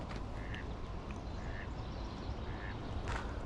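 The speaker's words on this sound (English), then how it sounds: "There's like some ducks quacking." Several ducks quack faintly in short, scattered bursts outdoors near water, heard over a steady bed of wind and rolling background noise.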